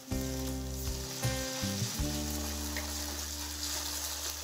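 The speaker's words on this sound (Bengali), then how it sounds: "আদা রসুনের পেস্টটাকেও ফ্রাই করে নিচ্ছি" Ginger garlic paste frying with onion and chilli in a pan, a loud dense sizzle with a low humming tone underneath and a few bursts as it is stirred, no voices.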